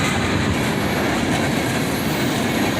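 A Norfolk Southern freight train rolls past with a DC-to-AC rebuilt distributed power locomotive mid-train, a dense, steady roar of wheels and cars with faint squeals, loud and continuous throughout.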